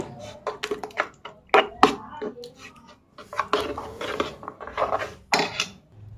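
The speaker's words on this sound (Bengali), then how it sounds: "এখানে আমি একটা ডিম ফেটিয়ে নিয়েছি এবার এটা একটু গুলে নেব" Beaten egg whisked in a bowl with a utensil, in quick bursts of rapid scraping and tapping against the bowl, separated by short pauses; close and fairly loud, no talking.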